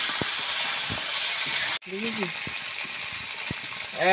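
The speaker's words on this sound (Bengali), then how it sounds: "এই টমেটো ভালো করে কষে নিয়ে আলু তুলে দিচ্ছি।" Potatoes fry with tomato in a pan, a loud, continuous close sizzle that cuts out for an instant and resumes as they are stirred, with a voice speaking briefly over it.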